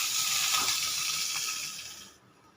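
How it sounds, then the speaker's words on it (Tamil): Peeled ridge gourd skin sautéing in a pan for a Tamil chutney, a loud, steady sizzling hiss close up that fades out just before the end. "இது நல்லா வதக்கிடுவோம்."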